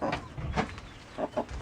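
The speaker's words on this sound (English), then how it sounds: "all the other chickens are over here making a whole ruckus" Chickens cluck and chatter near a hen laying her first egg. Several short, nasal clucks come in uneven bursts over a low background rumble, and no one talks.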